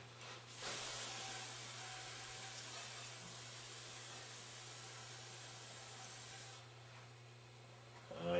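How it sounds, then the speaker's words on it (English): Solvent sprays in a steady hissing burst onto a part during a Meyer E-60 snowplow pump rebuild, running for several seconds at moderate loudness over a low constant hum, then cutting off. "we're going to clean this off now with a little bit of solvent again"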